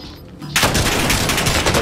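Call of Duty Warzone gunfire erupts suddenly after a quieter moment, a loud, dense, continuous burst of rapid shots filling the rest of the brief stretch.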